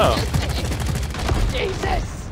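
Rapid gunfire bursts from Deep Rock Galactic fill the space in dense, steady volleys, loud and close, with players shouting over the shooting.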